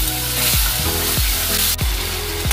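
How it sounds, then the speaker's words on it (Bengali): Spice paste for an Amudi fish curry sizzles steadily in a hot pan, with a spoon scraping and stirring through it in regular strokes roughly every third of a second, close and loud. "এবার আমরা এটাকে নেড়ে চেড়ে নিচ্ছি। মশলাটা কষানোর জন্য একটু জল অ্যাড করছি।"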